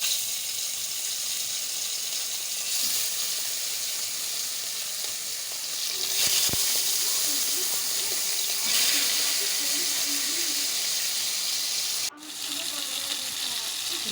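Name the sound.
fish frying in oil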